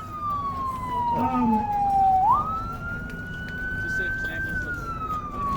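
An ambulance siren sweeps down and then up in long, slow wails, fairly close, over street noise and background commotion.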